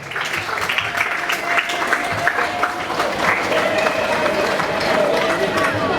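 A crowd at a school literary and patriotic contest launch ceremony applauds loudly and continuously, dense clapping filling the hall with murmuring voices underneath.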